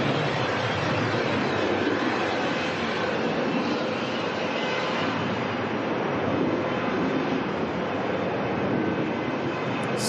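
Continuous heavy jet roar, broad and rushing, stays loud and even for several seconds as a large Qantas airliner bound for Sydney takes off from Melbourne Airport.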